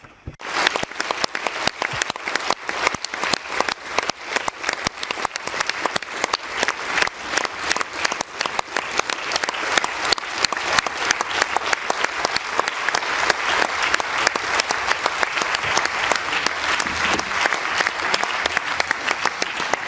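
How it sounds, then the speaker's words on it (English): Loud, sustained audience applause for Ukrainian president Zelensky fills the hall, a thick, continuous wash of many hands clapping close up throughout, with no talking over it. "I think that the applause you just received shows how much we appreciate"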